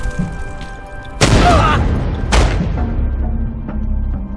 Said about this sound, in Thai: วิธีก็คือให้โยนระเบิดนี่แหละ ระเบิดแก้วเนี่ย